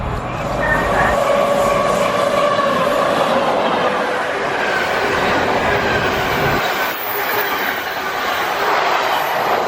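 A freight train rolls through Ealing Broadway station with a loud, continuous rumble and rhythmic clatter of wagons, plus some high wheel squeal, going on for the whole stretch before easing slightly near the end.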